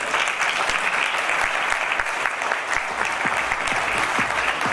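Audience applause greeting a guest's entry at a felicitation event honouring the new Censor Board chief, with Govinda and Shatrughan Sinha present; steady, dense clapping fills the room throughout, without talk over it.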